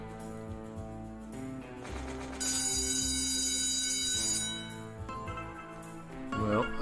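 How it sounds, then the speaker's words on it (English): Slot machine bells and jingles playing through a free spins bonus round, a layered stream of ringing chimes and melodic tones that swell and shift over several seconds, with no talking. "Well, I hope we all like bell sounds, because it's going to do it for 15 more spins."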